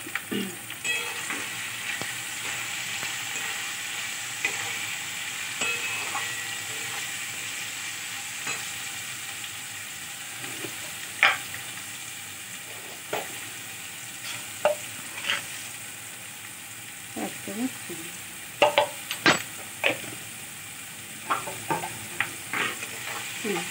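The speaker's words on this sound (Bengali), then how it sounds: "ততক্ষণ এটা একটু ভাজার মতো থাক।" Vegetables for veg pulao frying in oil in a pan, a soft continuous sizzle punctuated by scattered scraping and clinking strokes of a stirring spoon, close and fairly quiet, with no talk.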